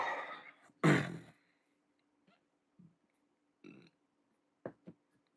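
A man's hiccups during live NFL play-by-play commentary: one loud, throaty burst followed by several short, quieter hiccup-like catches spaced irregularly over a few seconds, with no speech.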